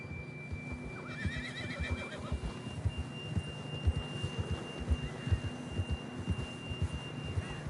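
A horse in the video game Red Dead Redemption 2 whinnies with a rising, shaky call over steady hoofbeats and a faint background hum.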